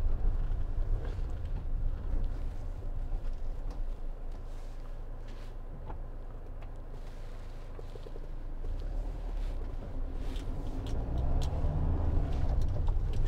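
A Citroen Relay 2.2 HDi Enterprise L3H2 panel van drives along with a steady low engine and road rumble heard from inside the cab, plus faint wind noise throughout.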